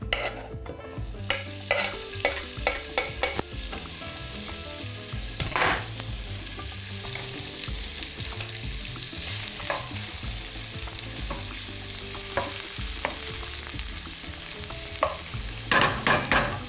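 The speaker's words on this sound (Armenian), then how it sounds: "Խոզի ճարպը բարակ շերտատենք եւ տապակենք դուրս գցած յուղով էլ կտապակենք փափկամիսը" Thin slices of pork fat and pork tenderloin fry in a pan, a steady close sizzle interrupted by scraping and stirring sounds as the pieces are moved around; no voices.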